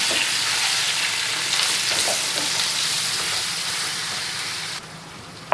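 Chopped ivy gourd (tindora) sizzles loudly and continuously in hot oil, with occasional stirring scrapes, close up; the hiss drops away near the end.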